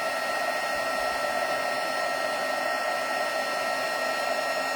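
Embossing heat tool melting metallic embossing powder on a reindeer craft project, a steady, fairly loud fan-driven whoosh with no pauses.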